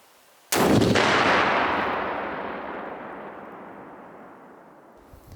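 An explosive charge detonates against a concealed-carry body armor vest outdoors, a single sharp, loud blast followed by a long rolling rumble that slowly fades over several seconds.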